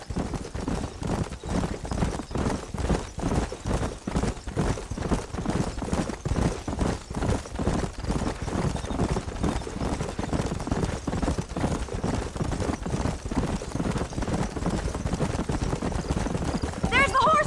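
Horses gallop in Red Dead Redemption, a fast continuous clatter of hooves throughout, with a brief whinny near the end and speech from characters heard over the running.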